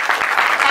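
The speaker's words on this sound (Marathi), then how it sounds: "तर आमच्या सर्व टीमसाठी एकदा टाळ्या वाजवा" Dense, steady applause from an audience at a pre-school annual day celebration, a brief burst of many hands clapping together at close range with no pause.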